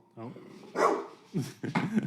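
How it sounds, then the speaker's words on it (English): A dog barks indoors in a few short, sharp bursts, with a whiny yip at the start, fairly quiet and close, while a person talks over it. "my dog is barking at a robber"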